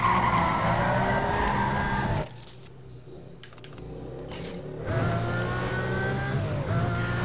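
Lamborghini racing in Need for Speed Most Wanted, with a steady engine roar and tire squeal that cuts out to a quieter stretch mid-clip before the engine and skidding return.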